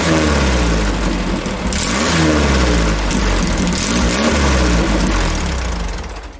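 A Volkswagen engine in a junkyard-built VW motorcycle runs through a single TeePee style exhaust stack, loud and close, with a raw throbbing idle that swells with revving.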